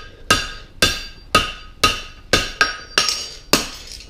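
A hammer forges a heart bar horseshoe on an anvil in eight loud, ringing metallic blows, spaced roughly evenly about half a second apart, each one decaying quickly.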